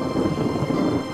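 Thunder rumbles low and heavy during a sudden, unseasonal rainstorm, a brief continuous roll with a rain-like wash above it.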